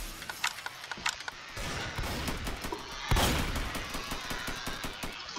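Rockets fired in the Roblox shooter Strucid: a string of sharp launches and blasts, with rapid cracking bursts and a louder boom midway, dense and close.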